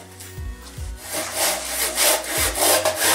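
A hand saw blade cuts through wood with a few sharp rasping strokes at first, then quicker, denser back-and-forth sawing that grows louder, close up and without talk.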